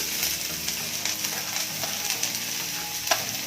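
Chopped onion hits hot oil already holding bay leaf, cloves and cinnamon for a vegetable masala rice, giving a steady, close, bright sizzle that crackles on without any talk.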